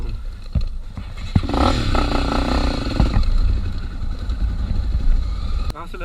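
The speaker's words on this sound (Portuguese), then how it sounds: "O acelerador e agora ficou morrendo." A Honda Tornado 250 dirt bike on a downhill trail ride revs unevenly, its engine rising and sputtering before dying out, close and loud, with some scraping and clatter around it.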